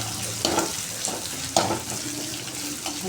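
Chopped drumstick leaves and spices sizzle and fry in a pan for a Kannada-style salt rasam, with a steady close crackle and a few sharp stirring scrapes, no voices.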